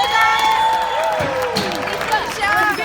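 A convention panel audience applauds and cheers loudly with whoops rising over the clapping, while voices carry underneath throughout.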